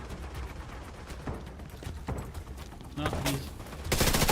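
Rapid gunfire in the Battle for Brooklyn DLC of a shooter video game crackles in bursts of sharp shots, getting louder near the end, while a player speaks briefly over it.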